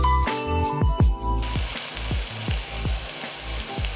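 Onion and garlic sautéing in a pan for a mushroom sauce to go with steak, a steady sizzle broken by repeated sharp knocks and scrapes from stirring, no voices.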